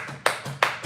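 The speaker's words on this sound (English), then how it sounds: "you have to clap and stomp your feet" Three sharp hand claps fall in a steady beat with a dull low thud of stomping feet under each one, loud and close.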